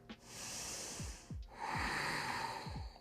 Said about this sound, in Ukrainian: Вдих.